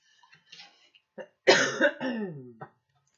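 A single harsh cough bursts out loud and close, followed by a couple of smaller breathy throat sounds, otherwise near silence.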